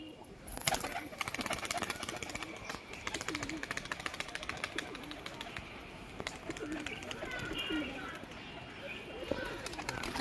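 Pigeons cooing, with a pair being released by a fancier, heard amid dense, continuous outdoor noise and rustling, with voices talking in the background.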